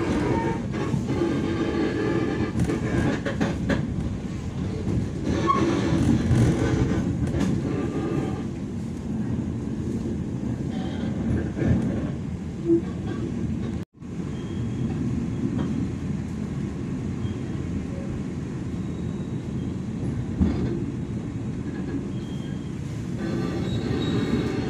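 A Pangrango passenger train on the Bandung–Bogor line in Java rolls steadily along the track, with a continuous rumbling clatter and faint wheel squeal heard from on board, briefly cut out partway through.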